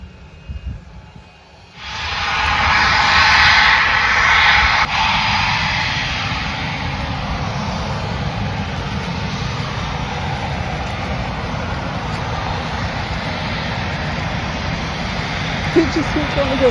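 Aircraft engine roar from a plane on a runway right beside a campsite, rising suddenly after two seconds into a loud, steady broadband rumble that holds to the end, with voices faintly underneath.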